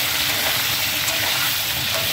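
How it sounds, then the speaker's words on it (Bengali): Bitter gourd fries in oil with salt, a steady, dense hiss of sizzling that holds at an even level throughout, close by and with no voices. "হালকা করে একটু নুন দিয়ে উচ্ছেটা আমি ভেজে উঠাবো"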